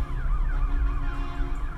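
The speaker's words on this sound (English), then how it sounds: "I hear like all kind of sirens and stuff." Sirens wail continuously in the distance, their rising and falling tones layered over a low rumbling background, with no one speaking.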